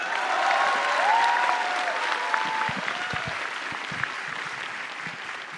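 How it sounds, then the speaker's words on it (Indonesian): An audience at a stand-up comedy show claps in a dense, sustained burst of applause that tapers off slightly toward the end, with faint crowd murmur mixed in. "Beri tepuk tangan sekali untuk Ratanca dan juga Dewangga."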